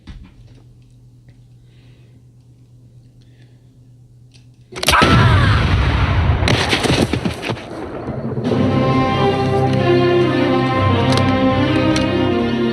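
Gunfire erupts abruptly after a quiet stretch with low hum, a loud burst of shots followed by sustained loud, dense noise and ringing.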